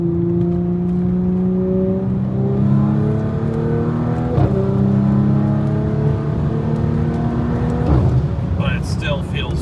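A B9 Audi S5 running an 034 Motorsport Stage 2 E85 tune pulls hard through the gears, its engine tone climbing steadily, dropping briefly at each shift, then rising again, heard loud from inside the car as people talk over it.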